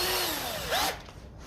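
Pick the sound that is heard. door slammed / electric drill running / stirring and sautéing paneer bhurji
electric drill running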